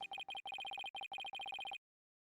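A phone rings in a video game with rapid, bright electronic trills in quick repeated bursts, clean and synthetic, stopping abruptly after about two seconds.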